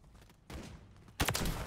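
The XRK Stalker rifle fires in Modern Warfare 3 gameplay, producing two sudden, fairly quiet bursts of gunfire a short moment apart over a low ambient background.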